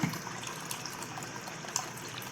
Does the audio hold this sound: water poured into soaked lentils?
yes